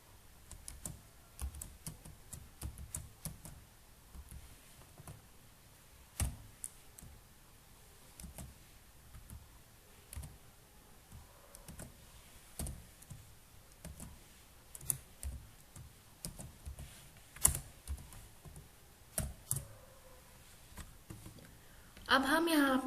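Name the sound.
typing C code on a computer keyboard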